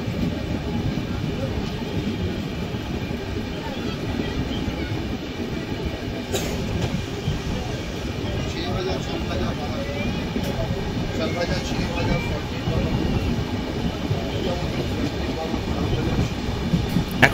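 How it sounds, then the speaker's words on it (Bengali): Heard from aboard the Rupasi Bangla Express, the Jagdalpur–Howrah Samaleswari Express passes on the adjacent track, a loud, continuous rumble and rattle of wheels and carriages close by, steady for the whole stretch. "সামনে আসছে Sambaleswari express. First meeting Sambaleswari এক্সপ্রেসের সাথে।"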